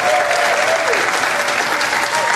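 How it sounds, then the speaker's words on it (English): An audience at a marketing training session applauds loudly and continuously, a thick, close wash of clapping with a faint voice briefly audible underneath. "give yourselves a massive round of applause"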